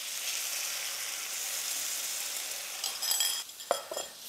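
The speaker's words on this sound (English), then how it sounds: "Just giving it a quick stir to mix the corn flour back through again" Noodles and chicken in oyster sauce thickened with corn flour are stirred in a hot wok: a constant sizzle under a spatula scraping, with a few sharp clinks near the end.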